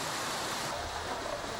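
Rushing water drives a barley mill in Tibet, heard as a steady, dense wash of flowing water with no distinct breaks, loud and close throughout.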